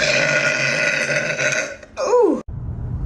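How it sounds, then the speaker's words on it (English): A loud, long human burp after fizzy soda, a drawn-out guttural belch that ends abruptly, followed by brief low noise. "there's the hiccup and then there's the burp."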